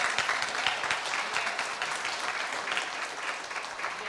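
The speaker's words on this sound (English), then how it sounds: "Please give him another round of applause." An audience at a keynote address at the BMHRC 2025 event breaks into sustained applause: dense, loud clapping that holds steady from start to finish with no pauses and no voices on top.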